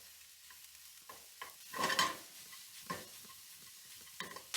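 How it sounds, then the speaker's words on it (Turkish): Chopped mushrooms sizzle quietly in a frying pan while a utensil stirs and scrapes in short bursts, one louder scrape in the middle. "gördüğünüz gibi tavadan cızırtılar gelmeye başladı"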